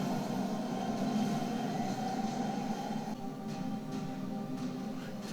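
A train rumbles past in a Daredevil Born Again episode, a steady loud roar of wheels and carriages that eases slightly partway through, with no speech.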